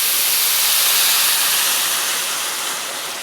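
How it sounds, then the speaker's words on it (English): Dry white wine hits a hot skillet of garlic and oil, giving a loud, continuous steamy hiss that fades slightly toward the end. "And then we're really going to wake it up with 1 cup of dry white wine."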